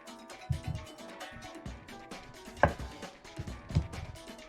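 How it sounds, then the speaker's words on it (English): A knife cuts through veal shanks being trimmed of skin for osso buco, making a few scattered thuds and chops on a board, with one sharp knock partway through and no talking. "It's actually the major reason that I'm cutting these at this point."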